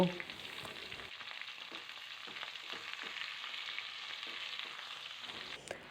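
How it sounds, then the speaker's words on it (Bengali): Washed spinach leaves and tender stalks drop into a hot frying pan, followed by a faint, even sizzle with light rustling and scattered small ticks. No talking. "এবার আমি ধুয়ে জল ঝরিয়ে রাখা পালং শাকগুলো দিয়ে দেব।"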